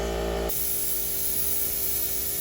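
Outdoor spray painting of furniture doors over a tarp, a loud continuous aerosol hiss that starts abruptly after a brief pause and runs unbroken to the end.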